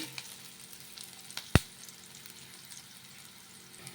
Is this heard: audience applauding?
no